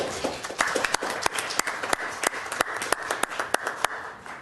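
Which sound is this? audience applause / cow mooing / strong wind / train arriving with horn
audience applause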